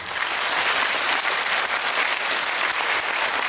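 A crowd at a Buddhist Enlightenment Day joint dharma service in Gwangju applauds a high school pungmul drum troupe with dense, sustained clapping throughout.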